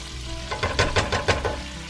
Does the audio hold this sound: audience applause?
no